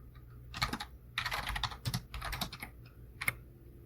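Quick bursts of clacking keys on a computer keyboard as Java code is typed, close and crisp with short pauses between the flurries of keystrokes.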